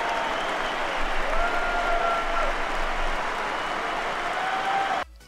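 Stadium crowd applauding on the field during a soldier mother's reunion with her daughter, a broad sustained wash of clapping and crowd noise with faint whistles, cutting off abruptly near the end.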